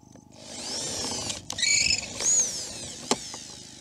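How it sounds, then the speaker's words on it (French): Power drill boring holes in a metal strip that is not very hard steel, a faint whirring spin-up followed by short, higher-pitched grinding bursts and a sharp click near the end. "je suis obligée de repercer mes trous parce qu'ils sont en 5"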